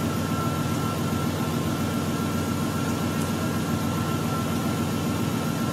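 A 2000 Lexus RX 300 with a no-start fault runs steadily, its engine giving a constant, loud drone with a low hum and broadband hiss that holds unchanged throughout.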